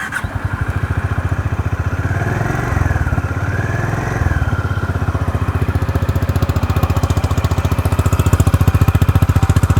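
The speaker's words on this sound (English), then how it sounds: "let's first find out the exhaust note" Honda Highness CB350 motorcycle exhaust thumping close up at a steady idle, then revved briefly a couple of times and settling back into a deep, rhythmic throb.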